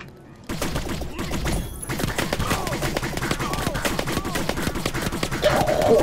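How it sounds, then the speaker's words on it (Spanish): Rapid machine gun fire in the video game My Time at Sandrock, a dense, steady stream of sharp repeated shots running loud and continuous through most of the stretch after a brief quiet opening. "¡Lo que mete la ametralladora!"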